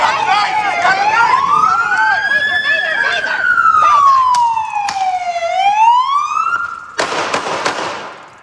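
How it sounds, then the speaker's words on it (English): A police siren wails loudly in the background of a cell phone recording during a police shooting in Madison, sweeping up and down continuously, then abrupt sharp bursts cut in near the end. "There is a siren going off in the background of the video."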